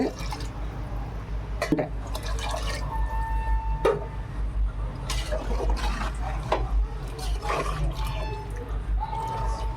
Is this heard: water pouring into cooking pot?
yes